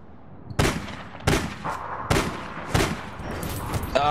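Sniper rifle fire in the online shooter APB Reloaded: four sharp, loud shots at roughly even intervals of about seven-tenths of a second, each with a short echoing tail over steady game background noise.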